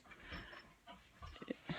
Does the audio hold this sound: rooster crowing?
no